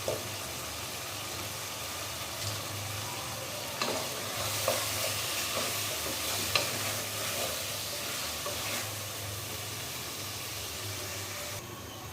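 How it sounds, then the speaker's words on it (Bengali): Potatoes sizzle steadily in a pan, cooked for a Bengali dish with prawns and pumpkin greens. A spatula stirs them with occasional soft scrapes and clinks under the continuous hiss, close up, with no talking. "এটা কষতে কষতে আমি দিয়ে দিচ্ছি আলু, 2টা আলু দিচ্ছি এখানে।"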